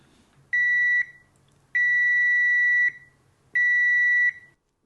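ANENG AN870 multimeter sounding its continuity beeper: three sustained, clear electronic tones, each lasting about a second, separated by short silences.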